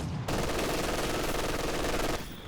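Sustained machine gun fire in Company of Heroes 2, a dense, rapid burst holding steady for about two seconds, loud and close, with no voices over it.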